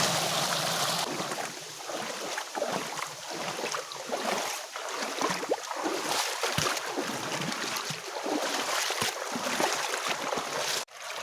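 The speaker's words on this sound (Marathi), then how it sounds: "फक्त पाटाच्या पाण्याचा आवाज येतो आहे" Water flows steadily through an irrigation canal, a constant broad rushing sound with no talking, holding even in loudness until a short dip near the end.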